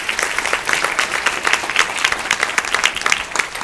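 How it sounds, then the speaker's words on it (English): A casino crowd in Iowa applauds at a live cooking show: steady, full clapping throughout a short burst. "Give him a big round of applause."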